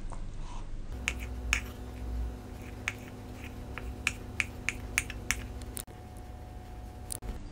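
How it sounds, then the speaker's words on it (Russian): Boiled eggs are diced into small cubes with a knife, giving sparse, sharp, close clicks of the blade striking the board at an uneven pace against a low background hum. "Точно такими же кубиками нарезаем яйца."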